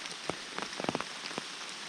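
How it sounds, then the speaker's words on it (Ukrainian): Rain falling in a forest, soft steady patter with scattered nearby droplet taps on leaves and ground, faint and continuous with no voices. "Так, дощ не перестає."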